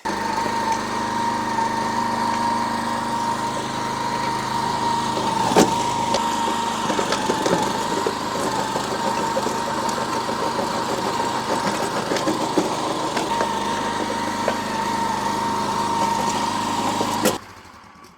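A large tiller engine runs steadily and loudly close by for nearly the whole stretch on a small garden patch, a constant mechanical drone with a couple of brief knocks before it cuts off at the end.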